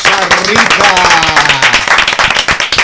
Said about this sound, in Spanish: Un aplauso a Rosarita